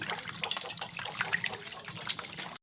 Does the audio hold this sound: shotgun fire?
no